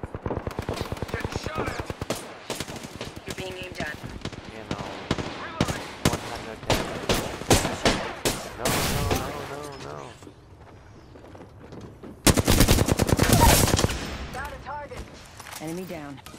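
Rapid automatic gunfire from weapons in a video game rattles loudly in dense bursts, with a sharper heavy volley near the end, mixed with game effects and a player talking over it.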